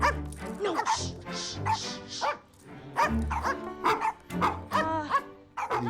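Several dogs recorded for the film Hotel for Dogs bark, yip and whimper in quick bursts, loud and close, with short gaps between barks.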